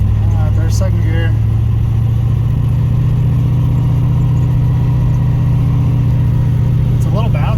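An LS V8 engine in a Nissan 240sx with a T56 gearbox drones loudly in second gear during an autocross run, a steady, close mechanical hum continuing under people talking inside the car.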